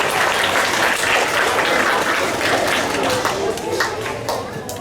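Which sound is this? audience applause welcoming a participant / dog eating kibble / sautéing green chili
audience applause welcoming a participant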